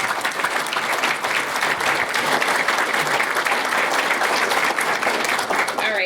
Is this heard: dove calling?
no